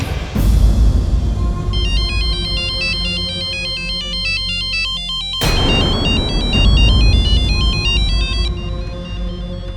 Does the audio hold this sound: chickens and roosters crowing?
no